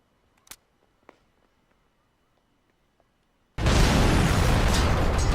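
A loud, sustained explosion blast from the film Ghost Dog bursts in abruptly after a few quiet faint clicks and continues as a dense, roaring rumble to the end.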